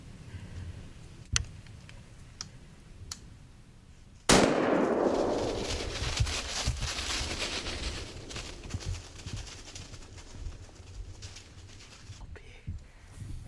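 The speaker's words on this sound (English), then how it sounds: "Chase makes a nice shot, and they hear the hog go down just out of sight." A single sharp gunshot fired at a wild hog during a hog hunt in Oklahoma, a loud close blast followed by a rolling echo that decays over several seconds, with faint earlier clicks and rustling outdoors.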